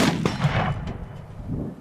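A .300 Win Mag Accuracy International Mk13 sniper rifle fires a single sharp, loud shot, and a booming echo trails off behind it.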